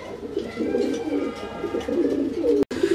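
A pair of local desi pigeons held for sale coo in a soft, repeated rolling rhythm close by, with no talk and one brief cutout near the end.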